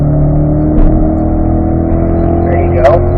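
A Corvette accelerating on a race track at a driving school, its engine a steady, loud drone from inside the car with a slowly climbing pitch, continuous throughout with no talk.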